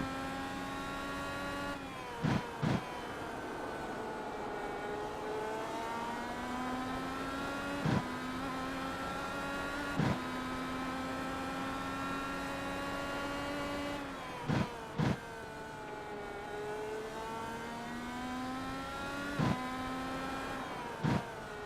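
Onboard race car engine holding a steady harmonic drone with repeated rising and falling pitch sweeps as it shifts and accelerates around the track, punctuated by several sharp clicks and thumps; no talk.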